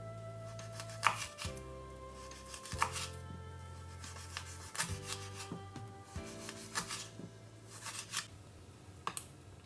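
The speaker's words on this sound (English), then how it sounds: "I'll chop the spring onion." Knife chopping spring onions on a board, a steady run of crisp, rapid cuts in short bursts with brief pauses between, close and clear over quiet background music.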